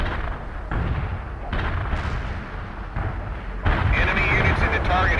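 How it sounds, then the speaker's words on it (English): An artillery barrage in the video game World in Conflict comes as a dense, continuous rumble of heavy booms in several abrupt bursts, loud and close, with no voice over it. "Artillery barrage hit for full effect."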